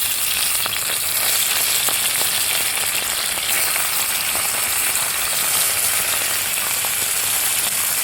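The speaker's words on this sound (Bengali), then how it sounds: "তেল সুন্দরভাবে গরম হয়েছে এখন আমি মাছ দিয়ে নিচ্ছি" Fish dropped into hot oil in a wok fries with a loud, steady, dense sizzle that runs unbroken and close throughout.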